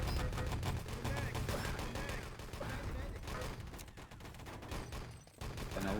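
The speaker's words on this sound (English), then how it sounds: "even if with Raz taken out, the SMGs are just doing great work for Team UK." Rapid automatic gunfire from SMGs in the video game Wolfenstein: Enemy Territory crackles in dense, overlapping bursts throughout, with commentary speech running over the shooting.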